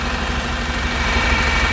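A Volvo double decker bus engine, the 538 bus fitted with a P5 engine and stuck in limp mode, runs with a steady, loud, droning rumble and constant vibration at close range, with no talking.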